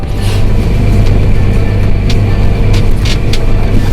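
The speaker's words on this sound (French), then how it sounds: "le tracteur va se replacer tout seul sans que je touche le volant" A farm tractor steering itself on GPS satellite guidance across a field gives off a loud, steady engine drone heard from the cab, with faint clicks and rattles over the constant rumble.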